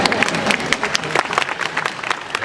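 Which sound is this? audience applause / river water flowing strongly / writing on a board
audience applause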